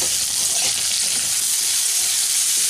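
Chopped bottle gourd sizzles steadily in hot oil with a pinch of salt, a dense, continuous frying hiss that stays loud and even throughout with no voices.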